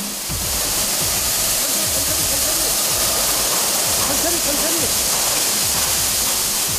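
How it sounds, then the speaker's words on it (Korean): A high-pressure water spray blasts sand off vehicle tracks in a maintenance workshop, a loud, constant hissing roar throughout, with a voice narrating over it. "밴딩을 풀고 세척 작업이 시작된다."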